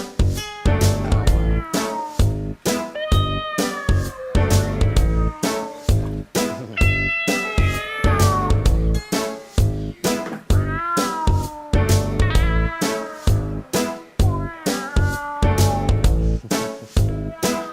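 Foster cats and kittens meow repeatedly and loudly in a busy, overlapping series of rising and falling cries, close by, with no talk.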